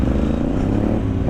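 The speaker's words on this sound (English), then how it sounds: "Your bike sounds good through the headset." A motorcycle engine heard over a rider's helmet headset while riding on the road, a steady, loud, low rumbling drone that holds evenly throughout.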